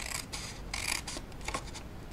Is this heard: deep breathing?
no